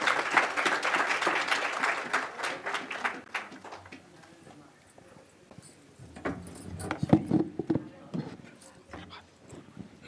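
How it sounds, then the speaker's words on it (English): Audience applause at a Hindu temple and community organisations session in Western Australia, a dense burst of clapping over the first few seconds that thins out, followed by quieter scattered sounds and some talk. "Can we all give them a big round of applause?"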